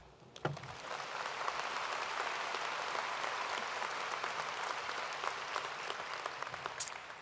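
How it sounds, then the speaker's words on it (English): An audience claps for an honorary degree recipient at a university commencement ceremony, sustained even applause from a large crowd heard from a distance. "You all got to clap again."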